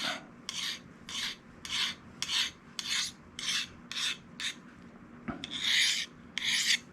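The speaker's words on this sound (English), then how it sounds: "Rub that burr off of it." A Solingen Bear Hunter knife blade is rubbed to remove the burr after sharpening, giving a dozen close, rhythmic rasping strokes in an even back-and-forth pattern, slightly faster and harsher at the end.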